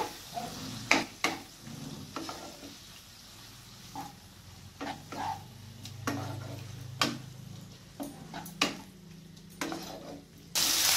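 Minced chicken sizzling softly in a pan, punctuated by sharp clicks and scrapes of a spatula stirring at irregular intervals.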